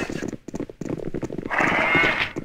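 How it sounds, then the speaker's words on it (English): Farm horses and cows in Baldur's Gate 2, with hooves clip-clopping in an uneven rhythm and a long bleat-like animal call near the end, moderately loud over faint background murmur. "Looks like he's probably in care of these horses and cows."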